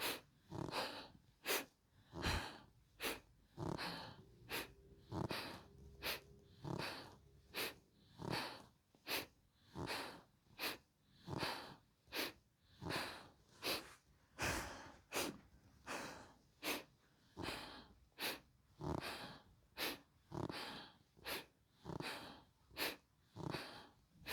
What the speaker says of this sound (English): It's more of a sniffing type breath here